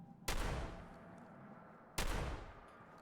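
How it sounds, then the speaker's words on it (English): Two gunshots from a gun in Fallout 4, about two seconds apart, each a sudden blast with a lingering reverberant tail, somewhat quiet overall. "let's try firing the gun now"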